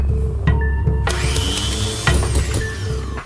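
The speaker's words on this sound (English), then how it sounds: "We definitely chopped him up in a meat grinder." Harsh grinding and chopping from a meat grinder mashing a body in the horror game Fear and Hunger 2: Termina, loud and continuous with metallic scraping, rasping tones and sharp clanks throughout.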